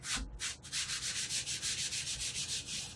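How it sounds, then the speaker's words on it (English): Rhythmic dry rubbing as a hand wipes leftover white powder off the surface of heat-gun-scorched wood, steady back-and-forth strokes close up with no talking. "I'm just going to rub off some of the extra white powder that you see"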